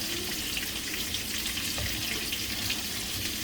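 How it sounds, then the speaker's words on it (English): A pot of Cajun-style jambalaya bubbles on medium heat, giving a steady hissing, bubbling wash with faint knocks underneath, close and unbroken throughout. "let this keep up a boil on medium heat though"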